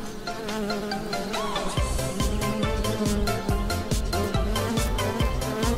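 A steady insect buzz drones on, with rhythmic thumping music underneath, no talking.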